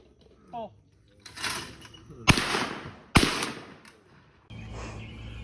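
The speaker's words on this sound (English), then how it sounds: "I have a clip of me shooting." Shots fired from a new gun, two loud, sharp cracks about a second apart, each followed by a decaying echo, with quieter handling and background noise around them.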